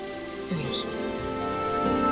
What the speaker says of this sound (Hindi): बारिश अच्छी लगती है